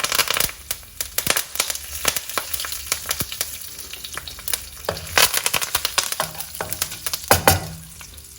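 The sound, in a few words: mustard seeds, cumin seeds and curry leaves sizzling in hot oil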